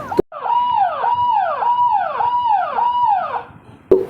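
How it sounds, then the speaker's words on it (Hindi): An ambulance siren wails in a rapid, repeating up-down yelp cycle, loud and close, during an emergency mock drill as the vehicle heads to a first aid point, with brief clicks at the start and end. "देखिए कैसे फर्स्ट एड पॉइंट पे एम्बुलेंस जा रहा है।"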